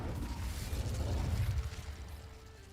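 Fire spell Incendio cast in the video game Hogwarts Legacy: a loud, full burst with a rumbling low whoosh and mechanical rattle that swells for about a second and a half, then fades into a quieter tail.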